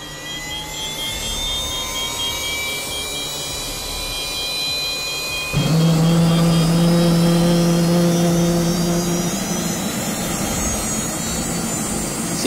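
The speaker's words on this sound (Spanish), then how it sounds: "El botón dice arranque del motor. Inicio de helicóptero de turbina." A turbine helicopter engine starting up gives a loud steady whine with a rising turbine tone, then a sudden jump to a fuller, stronger roar halfway through as the engine spools up. It holds a sustained drone to the end.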